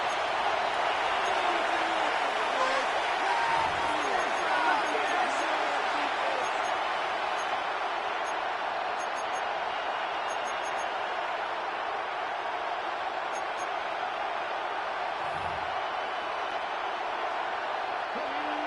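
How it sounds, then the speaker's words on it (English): A stadium crowd at a playoff football game in a video game roars in a steady, dense wash of noise before a third-and-long play, loud and unbroken throughout. "The crowd cranking it up another notch before 3rd and long."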